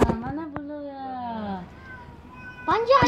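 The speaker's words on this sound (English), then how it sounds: "They're actually my cat." A kitten-like pet cat gives a long, drawn-out meow that slides downward in pitch, then after a short quiet gap starts another cry, close and clear, with a person speaking briefly around it.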